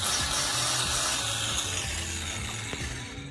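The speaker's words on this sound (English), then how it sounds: "We got some wood going, got some tools going, some power tools because we're powerful dudes." Power tools work on wood, a loud continuous buzzing and whirring with rough broadband noise, steady and close throughout.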